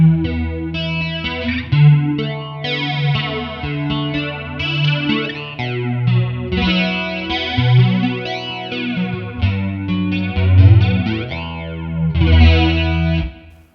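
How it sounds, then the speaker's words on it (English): Acoustic guitar played through a flanger effect on an original Line 6 Pod, strummed and picked chords with a sweeping, swirling shimmer, clear and solo. "I don't know what the flanger will be like on an acoustic."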